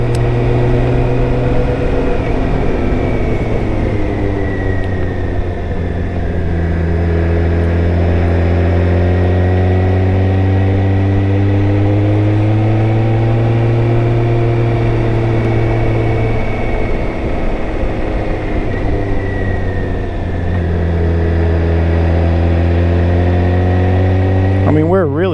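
A BMW K1600GT six-cylinder motorcycle engine is ridden at low revs, a continuous loud low drone with slowly rising and falling pitch that runs without a break, while a rider talks over it throughout.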